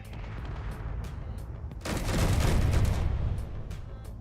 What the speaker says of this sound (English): See how the guns are trying to shoot the artillery projectiles?